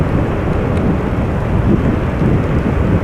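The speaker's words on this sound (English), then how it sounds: "Rain is turning into something a bit more substantial." Heavy rain pours at Amsterdam Schiphol Airport, a dense, loud, continuous roar that may be mixed with wind buffeting close to the microphone.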